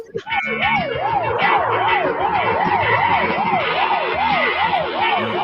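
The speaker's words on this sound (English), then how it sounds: "That siren sounds like Pac-Man ran out of dots to eat." A warbling siren rises and falls in rapid, evenly spaced sweeps, loud and close, over a low rumbling engine.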